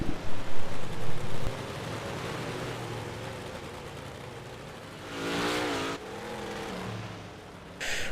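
Big block race cars roaring around a dirt oval at Limaland during a Monday night series, a steady engine drone with a louder car surging past midway, heard from a distance.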